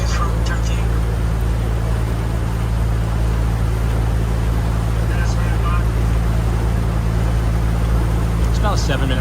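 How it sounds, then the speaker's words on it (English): A steady fishing boat engine drones on open water at Disney World's Fort Wilderness, with wind and hiss, a voice speaking over it now and then. "Looks like there's a fishing boat over here."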